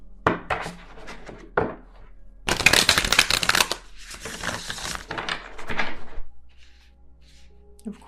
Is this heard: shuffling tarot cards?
yes